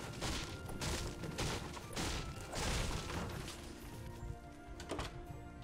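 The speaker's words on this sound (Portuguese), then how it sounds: "Quebrar o telhado aqui." In the Fortnite video game, a roof is smashed apart with a rapid run of loud, heavy thwacks and crashing impacts, dense and repeated, then tapering off.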